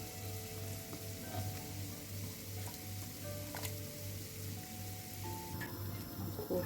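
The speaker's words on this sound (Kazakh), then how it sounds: "Біздің сорпамыз әдемі қайнап жатыр." Pea soup bubbling in a pot on the stove, a steady close simmering hiss with soft popping bubbles and a low hum beneath, continuous and fairly quiet without any talk.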